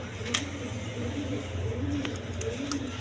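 Pigeons coo in low rolling phrases at a pigeon seller's stall, a steady murmur of several birds layered close together with a few brief higher chirps over the top.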